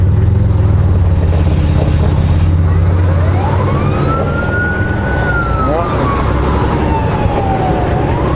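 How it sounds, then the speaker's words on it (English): An ambulance siren wails in a long rising and falling sweep over loud, constant engine and road rumble, as if heard from inside a vehicle. "That was the ambulance."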